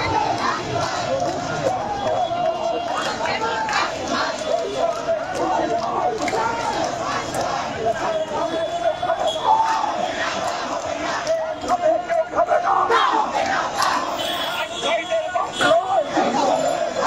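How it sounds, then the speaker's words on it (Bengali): Non-MPO teachers on a long march, held back by police, chant protest slogans demanding MPO enlistment: a large crowd shouts rhythmic, repeated calls amid steady babble, loud and continuous. "আমরা দেখতে পাচ্ছি এমপিও ভুক্তির দাবিতে তারা স্লোগান তুলছেন।"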